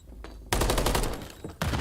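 Two rapid bursts of automatic gunfire from a Call of Duty League match in close-quarters fighting, the first sustained and dense, the second starting just at the end, loud and near.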